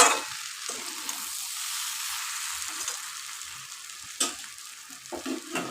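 Steady sizzling hiss as hot water goes into frying masoor dal (red lentils) in a pan, with soft stirring scrapes and a few sharper clicks.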